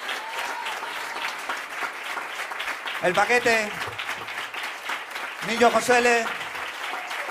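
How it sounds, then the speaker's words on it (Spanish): An audience at the AC Recoletos jazz club applauds during a 50th birthday concert for Enrique Heredia "Negri". Steady clapping runs under a man announcing the performers over a microphone. "un aplauso para él."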